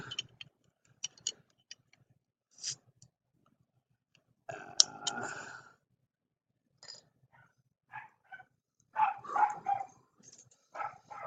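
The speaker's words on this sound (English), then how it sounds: "there goes the dog going crazy" A dog barks indoors in scattered short bursts, distant and faint, with sharp ticking clicks between the barks and no speech.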